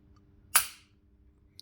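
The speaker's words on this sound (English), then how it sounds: "And then you're going to pull the trigger." The trigger of a Glock pistol is pulled and breaks with one sharp, close dry-fire click, followed by a faint tiny tick afterward; no talking.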